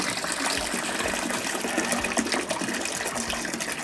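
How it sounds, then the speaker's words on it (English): Tap water gushes steadily into a bucket, a continuous broadband pour and splash that stays loud and close for the whole stretch, with no voices over it. "poured the water in the bucket and refilled the bag up with water to rinse it out"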